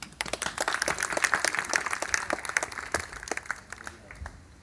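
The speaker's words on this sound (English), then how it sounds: "A big round of applause, please." An audience at a Baisakhi cultural program gives a round of applause after a group performance, sparse individual claps pattering close and uneven before thinning out toward the end.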